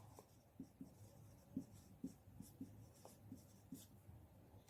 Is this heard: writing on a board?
yes